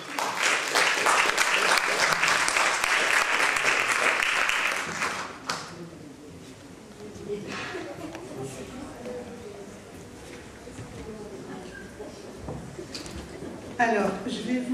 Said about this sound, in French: On applaudit Louise.